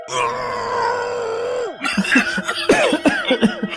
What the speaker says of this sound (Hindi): इतनी खांसी क्यों आ रही है?